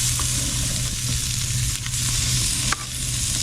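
Fresh fish fillet laid butter side down in a hot pan, frying with a steady, close, loud sizzle that holds evenly throughout, with a few faint clicks and pops.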